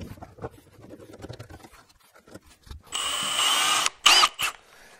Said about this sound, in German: Jetzt werde ich noch ein paar Mal vorbohren,